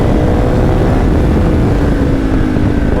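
Loud, dense engine roar from a Kove 450 rally motorcycle set up as a supermotard while riding and braking, heard up close with rushing wind and a steady drone throughout.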